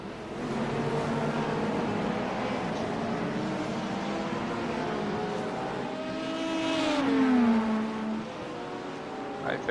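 LMP2 prototype race car engine in iRacing at Daytona: a continuous droning engine note that holds steady, then rises and falls through shifts near the end, with some talk over it.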